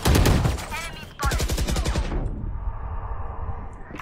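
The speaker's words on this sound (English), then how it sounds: "Gun sound pe rotate kar lo." Gunfire in a tactical shooter video game, rapid bursts of automatic shots in the opening two seconds, loud and close, then fading into a quieter steady hum.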